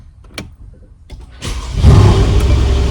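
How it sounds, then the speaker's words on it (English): A car engine starts up close by after a few faint clicks and a whirring pulse, then settles into a steady idle rumble. "So I'm gonna turn on the engine now."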